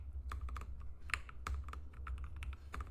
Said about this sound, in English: Oh my gosh, I can't type.